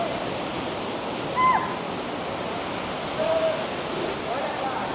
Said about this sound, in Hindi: अब मैं जा रहा हूँ वाटरफॉल के मज़ीद करीब।